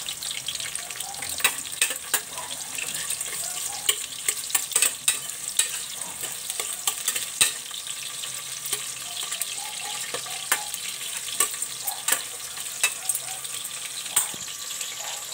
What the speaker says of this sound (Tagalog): Sama na natin yung sibuyas guys.